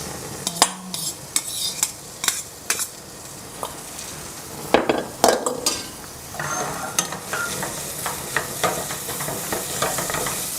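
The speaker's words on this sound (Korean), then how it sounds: "참기름을 좀 넣고 볶겠습니다." Bitter melon is stir-fried in sesame oil. A spatula scrapes and taps the pan in quick, irregular strokes over a soft, continuous sizzle, and no one speaks.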